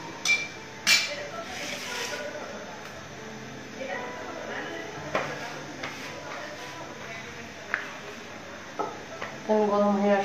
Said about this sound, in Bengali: ভাজার জন্য আমি একটা ফ্রাই প্যান নিচ্ছি